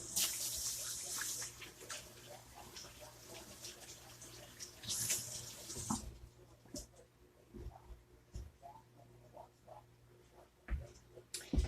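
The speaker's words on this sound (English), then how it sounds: "give me just a minute to wash my hands." Running tap water splashes loudly over hands at a sink for about six seconds, then stops, leaving quieter scattered clinks and handling sounds.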